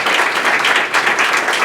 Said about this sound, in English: Give him a great round of applause for the great work Secretary does.